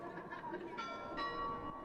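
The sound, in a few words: city church bells ringing at 9 pm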